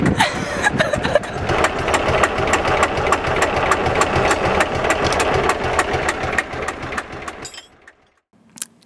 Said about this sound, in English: The engine started right up just like it had always done, so eager to run.